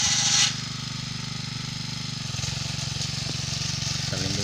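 A Hatari machine engine runs steadily while porang tubers are chopped, a continuous low droning chug with a rough rhythmic texture, near and constant throughout.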